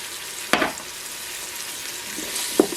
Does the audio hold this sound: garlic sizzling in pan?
yes